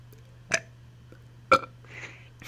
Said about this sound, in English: And we're back with the burps.